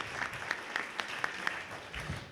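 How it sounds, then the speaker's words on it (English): Audience clapping for the candidates at a municipal all-candidates debate, a moderate patter of applause from a modest crowd with a few sharper claps standing out, no voices over it. "Round of applause for all your candidates."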